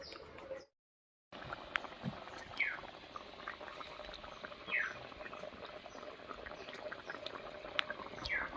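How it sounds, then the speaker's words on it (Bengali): Cabbage and duck egg curry broth bubbling in a pot, a steady low simmer with scattered small pops and gurgles throughout, after a brief moment of silence near the start. "ঝোলটা ফুটে গেছে এবার বড়গুলো দিয়ে দিচ্ছি"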